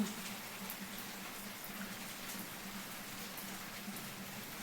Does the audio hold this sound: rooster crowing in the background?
no